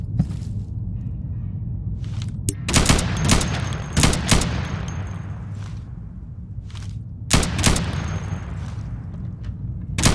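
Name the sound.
gunfire at plywood targets in the video game Insurgency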